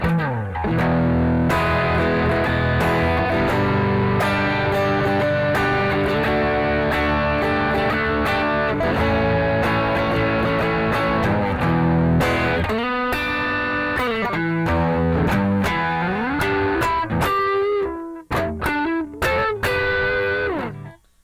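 Electric guitar through a Keeley Aria pedal with tone set around 1 o'clock, a bright, gritty overdriven passage of strummed chords and lead lines, loud and sustained before breaking into choppy stabs near the end.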